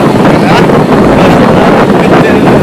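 Quad bike carrying a rider and father, its engine drone buried under heavy wind buffeting across the microphone, loud and constant throughout the short ride.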